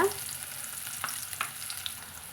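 Onions sizzle and crackle steadily in hot oil, with a few scraping stirs of a spoon in the pan; close, no voices.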